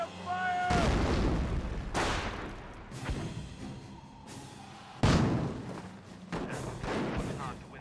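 Mortar firing in Company of Heroes, several heavy booming thuds spaced a second or two apart with rumbling decays, someone talking over the battle.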